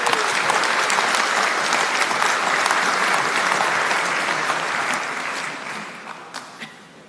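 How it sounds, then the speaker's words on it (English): A round of audience applause at a community launch event in New Zealand, steady and dense for several seconds before gradually thinning out toward the end, with no speech over it. "So if we could please, just a round of applause for Honourable Aupito William Sio."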